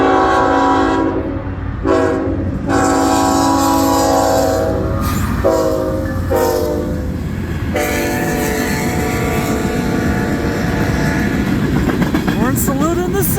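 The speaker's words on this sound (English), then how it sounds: "Horn salute in the sequence." Freight train CN 3223 rolls by loud and close with a continuous rumble and wheel clatter, while its horn sounds several long blasts as a salute.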